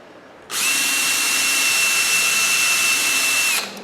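Close and loud, a cordless drill with a small bit runs steadily for about three seconds as it pre-drills at an angle into a wooden window screen frame, then winds down.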